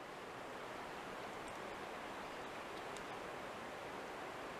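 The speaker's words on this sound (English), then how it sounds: "That noise you hear is waterfalls down in the bottom of that canyon." Waterfalls far down at the bottom of a wooded Ozarks canyon give a steady, soft broadband rush, faint and distant, unbroken throughout with no voices over it.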